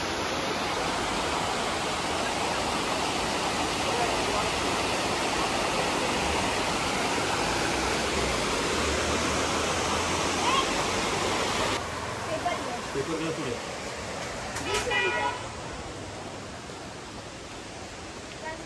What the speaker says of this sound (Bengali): দেখুন কি সুন্দর ওয়াটারফলটা।